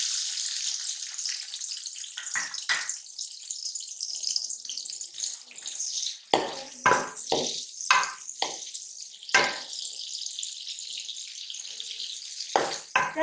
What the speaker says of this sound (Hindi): हमने कढ़ाई में घी गर्म होने के लिए रख दिया था, अब ये गर्म हो चुके हैं। हम इसमें प्याज डालेंगे